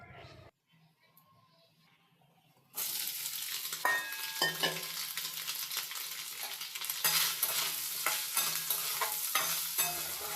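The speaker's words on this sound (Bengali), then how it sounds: "কড়াইয়ে প্রথমে সোয়াবিনটাকে একটু ভেজে নিয়েছি" Soybean chunks fry in a wok, a loud, dense sizzle that bursts in partway through after a quiet start and holds steady with scattered crackles and stirring clatter.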